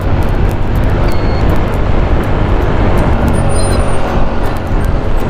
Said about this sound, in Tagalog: Ingay, dami sasakyan.